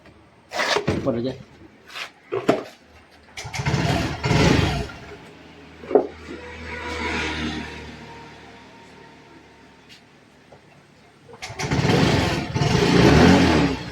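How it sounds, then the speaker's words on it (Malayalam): A motorcycle engine is kicked and started, with bursts of sputtering and revving separated by quieter gaps, a near, loud idle building at the end, and someone talking in between. "ത്രോ കൊടുത്തൊന്ന് സ്റ്റാർട്ട് ചെയ്ത് നോക്കാം"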